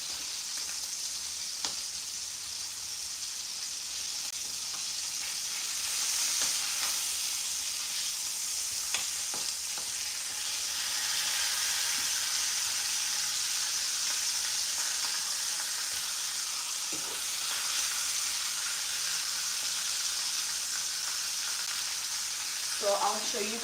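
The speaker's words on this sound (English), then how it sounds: "You like fry the oxtail with salt and pepper, turn it around" Oxtail seasoned with salt and pepper sizzles steadily in a hot pan, a dense continuous frying hiss with occasional soft clicks of turning, close and loud without speech.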